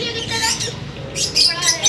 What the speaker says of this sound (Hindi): यहाँ तोते वगैरह भी पड़े हुए हैं, तोते फिंच बहुत कुछ है यहाँ पे।